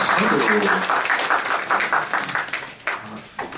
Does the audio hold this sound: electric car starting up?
no